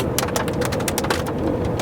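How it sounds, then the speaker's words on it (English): Hail striking a car windshield while driving a scenic mountain highway, a dense patter of sharp irregular taps over a steady road and cabin rumble. "Like, I feel like it's hail."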